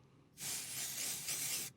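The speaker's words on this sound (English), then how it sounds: "We're actually going to do a live test of the spray on the show." An aerosol can of body spray released in one continuous hiss of about a second and a half, close and fairly loud, starting and stopping abruptly in an otherwise quiet room.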